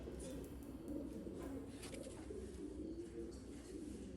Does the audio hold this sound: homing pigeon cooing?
yes